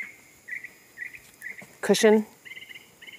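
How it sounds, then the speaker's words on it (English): Short bird calls ring out outdoors in a repeating chirped pattern, moderately close, while a person speaks over the middle of the clip. "as soon as I start recording, the bird comes on"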